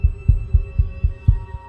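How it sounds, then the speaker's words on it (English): Heartbeat sound effect: deep, thudding double-beats repeating steadily about four times a second, loud and close, with a faint steady hum beneath and no talk. "the only noise you hear is your heartbeat"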